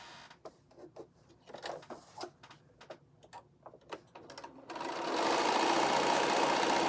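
A sewing machine runs in short, uneven bursts of stitching, sewing a charm pack block along the diagonal. A loud, steady broadband whoosh takes over for the last couple of seconds.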